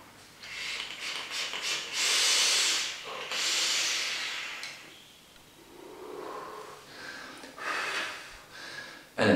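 Vaping draws on a Phantom, Wotan or Asolo atomizer: several breathy hissing pulls, each a soft rushing airflow lasting a second or two, separated by quieter gaps, close and fairly faint.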